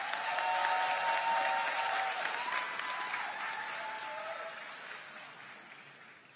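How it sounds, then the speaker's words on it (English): Steady applause from a commencement audience for a graduating class, a dense, even wash of clapping that stays strong for several seconds before gradually thinning out. "Give them another round of applause."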